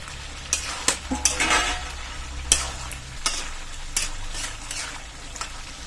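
A spoon scrapes and stirs through desi chicken red curry with fried potatoes in a pan. Scattered clinks and knocks sit over a low background sizzle, close by, with no talk.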